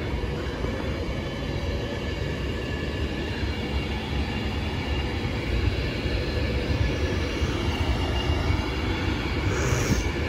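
A train rolls through Stafford station: steady loud rumble of wheels on rail with faint squeal, continuous and close for the full length, no voices.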